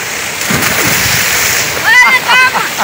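Water splashes and sloshes loudly as people jump into a village swimming pool, with continuous churning water and bursts of excited shouting near the end.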